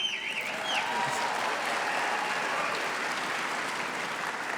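Steady, dense applause from a large crowd at a community college graduation ceremony, continuous and even throughout with no break.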